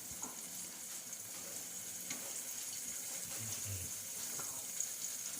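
Vegetables sautéing in a pan for Kapampangan chicken caldereta, a steady, fairly faint sizzle throughout with a few soft stirring clinks and scrapes.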